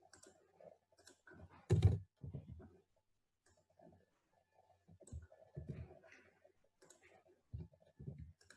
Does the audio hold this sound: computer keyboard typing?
yes